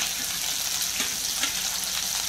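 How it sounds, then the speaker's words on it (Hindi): Onion and garlic frying in hot oil, a constant close sizzle and crackle with no talking. "ऑयल गरम हो गया है, अब हम इसमें प्याज डाल देते हैं"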